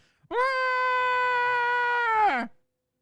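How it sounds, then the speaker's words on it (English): A single distant human scream about a block away outdoors on the Fourth of July night, sustained and wavering for about two seconds before cutting off abruptly, heard alone without talk. "That sounded like a scream about a block away."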